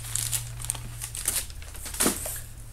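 Crinkling and tearing as a heavily taped cardboard box holding Lucas motorcycle fork oil is opened, with close, irregular rustles and rips over a low steady hum.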